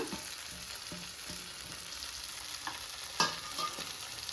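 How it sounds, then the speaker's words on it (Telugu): Peanuts frying in a pan give a steady close sizzle, with a few spoon scrapes and stirring clicks spread through, moderately loud, no talking. "ఫ్రై అయినాయి."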